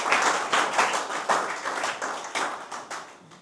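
A church congregation at a Cameroon mission service claps in a steady rhythm, with crisp, even beats repeating around three times a second, moderately distant and gradually softening.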